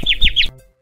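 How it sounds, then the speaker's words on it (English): A cartoon bird chirps three quick bright rising tweets in a row, close and loud, then stops abruptly into near silence. "People may start finding birds everywhere in the house."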